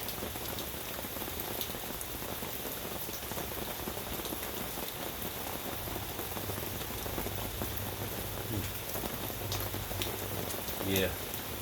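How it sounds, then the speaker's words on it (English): Rain falling steadily on a surface, a continuous close hiss of drops with a low background hum, unchanging for the whole stretch and ending with a faint brief knock. "something about hearing the sound of the rain."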